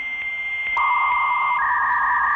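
A 28.8K baud dial-up modem begins its connection with steady tones that shift in pitch and then a sustained whine, heard alone and moderately loud.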